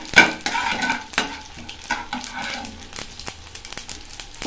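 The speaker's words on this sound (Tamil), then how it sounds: "இப்போ வந்து கடுகு சேர்த்துக்கிறேன்" Mustard seeds dropped into hot oil in a pan, crackling and sizzling close by with a sharp initial burst followed by steady spattering pops.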